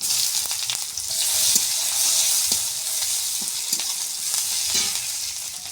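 Panch phoron and chopped onion fry in hot oil for a rui fish and new potato curry. The close, bright sizzle is continuous, with faint stirring clicks scattered through it.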